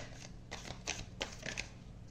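Tarot cards being shuffled by hand, a quiet run of soft papery riffles and flutters in uneven bursts, with no voices.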